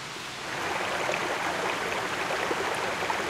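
The Hwagae stream flows along its clear mountain course in Hadong, a steady, soft broadband rush of water that swells slightly after the first half second and continues evenly without voices.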